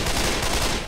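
Rapid, dense gunfire from the Left 4 Dead zombie shooter, set in The Parish campaign, with continuous loud bursts packed tightly across the whole moment and no pauses.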